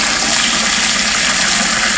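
Water gushes steadily into pig innards in a continuous, loud rush during home butchering of a pig.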